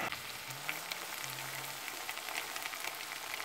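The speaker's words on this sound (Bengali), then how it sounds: "পেঁয়াজ রে ভালো করে আমি কষাই নু" Onions frying in a pan for a fish curry, a steady close crackling sizzle that runs without pause, with a couple of faint low hums underneath.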